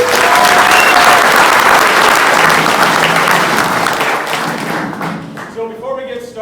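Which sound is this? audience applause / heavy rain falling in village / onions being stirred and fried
audience applause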